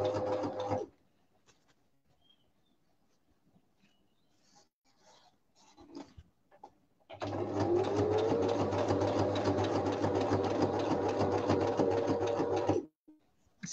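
A sewing machine stitches a seam to close off a garment's seam allowance, its steady motor drone running continuously for about six seconds after some quiet handling sounds and a brief earlier burst.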